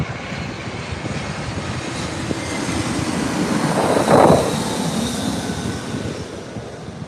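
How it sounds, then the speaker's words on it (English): An American Airlines jet arriving from Dallas roars steadily at LAX, its engine noise swelling to a loud peak as it passes close by and then easing off, with no talking. "And that's the American Flight 2767 coming in from Dallas."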